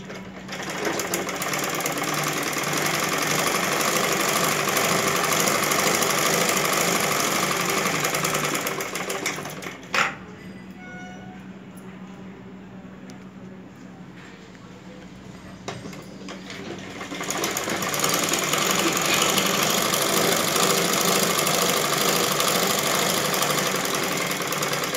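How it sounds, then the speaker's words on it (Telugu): A sewing machine stitching a prince cut blouse, running loud and steady with a fast whirring drone, pausing briefly with a click partway through, then starting up again and running continuously. "ఇప్పుడు కుట్టుకున్నామండి."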